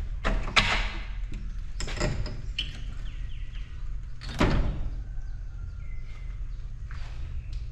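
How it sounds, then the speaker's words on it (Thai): An old door in an abandoned house is pushed open with several sharp creaks and scraping knocks, spread over a low background hum, with faint bird chirps in between. "ขออนุญาตเปิดประตูนะครับ"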